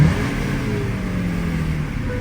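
Low, rumbling idle of a Lamborghini Aventador SV V12 engine at a track day, steady and fairly loud with a slight rise in engine pitch, no clear sharp revs.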